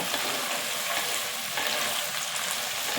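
Crushed turkey berries, seeds included, hit a pan of sautéing garlic and onion, giving a steady, fairly loud sizzle that runs unbroken with no talking.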